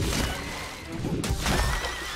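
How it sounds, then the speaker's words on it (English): A loud, shrill horse-like neigh rings out in the Monster Hunter World video game in the Coral Highlands, one drawn-out whinny with faint clopping steps, heard close with no talking. "Sounds like a horse. A little bit like a horse."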